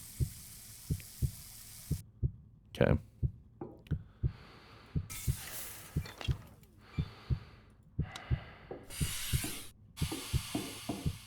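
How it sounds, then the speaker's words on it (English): A low-stamina warning heartbeat in the Occupy Mars video game thumps in a steady, regular pulse throughout, the beats sounding under bursts of hissing and rushing game noises, with a brief spoken word. "My stamina is so low that it's going to constantly have the heartbeat on me here"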